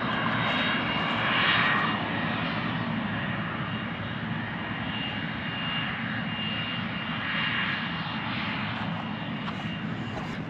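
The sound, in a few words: TA-4 Skyhawk jet engine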